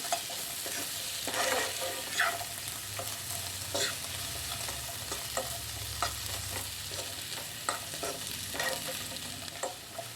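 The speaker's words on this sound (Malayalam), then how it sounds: "ഏകദേശം ഒരു മിനിറ്റിൽ താഴെ ഒന്ന് വഴറ്റിയെടുത്താൽ മതിയാവും" Masala for a paneer pizza topping sautéed in a pan, a steady soft sizzle with scraping stirs from a spoon against the metal, close and continuous, no voices.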